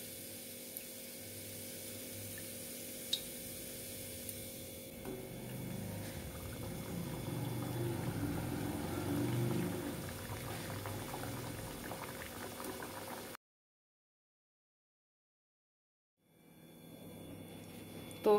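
Roasted chickpea mathri snacks fry in hot oil, a steady close bubbling sizzle that swells as more pieces go in, then drops out briefly before resuming.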